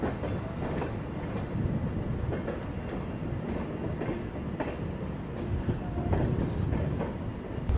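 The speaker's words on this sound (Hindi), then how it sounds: "बाकी आप एंजॉय करिए इस खूबसूरत डिपार्चर को न्यू हाफलोंग रेलवे स्टेशन से।" The Rajdhani Express pulls out of New Haflong railway station with a steady rumble and rhythmic clatter of wheels over rail joints, loud and continuous throughout, with no voices.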